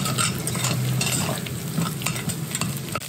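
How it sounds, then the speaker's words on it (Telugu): Egg fried rice made with brown rice, with turmeric added, is stirred around a hot pan, giving a steady close scrape and shuffle over a continuous sizzle, with no talking. "ఇప్పుడు అన్నీ మిక్స్ చేయండి."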